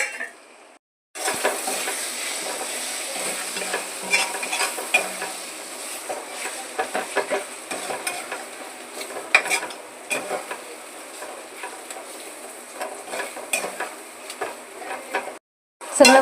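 Egg bhurji with green chilli chutney being stir-fried in a pan, a steady close sizzle broken by frequent scraping and clinking stirs for most of the stretch, with a brief quiet gap near the end.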